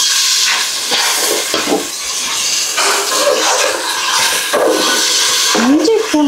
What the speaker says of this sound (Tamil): இப்போ வந்து புதினா போட்டுடலாம். அவ்வளோதான், நல்லா சேர்த்து வதக்கணுமா